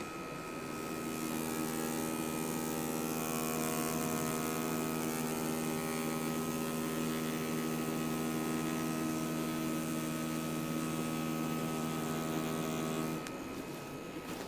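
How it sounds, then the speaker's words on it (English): A tattoo machine runs continuously while lining skin, a steady, even buzzing hum with a strong tonal whine, close and alone, stopping near the end. "This is going to be what a healthy line sounds like."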